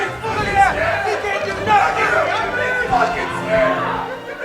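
A tournament crowd watching a Super Smash Bros. set fills the space with loud, continuous chatter and excited murmurs that swell and ebb, with a voice heard over the babble.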